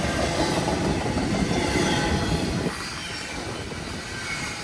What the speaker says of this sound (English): It is one of 4 hot intermodals that travel up and down the CSX Henderson subdivision.